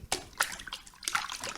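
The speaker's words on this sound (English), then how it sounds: "Splashing around. Yeah, that's a good noise. Can you give us more of that moving water?" Water splashing and sloshing in a bathtub, a few brief bursts of movement in quick succession, close by, with no talk.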